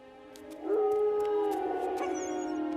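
A dog in a RWBY animated episode lets out a single long, rising and sustained howl that sounds clear and close and then slowly fades.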